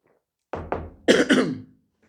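A man coughs several times during a law lecture, two short hacking coughs followed by a harsher throat-clearing double cough, close and loud in an otherwise quiet room.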